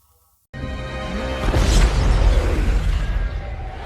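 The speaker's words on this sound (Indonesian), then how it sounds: "tempat pameran tersebut meledak" A sudden loud blast as an exhibition hall explodes in the film Big Hero 6 (2014) erupts after a moment of quiet, followed by a deep rumbling roar that lingers and slowly fades.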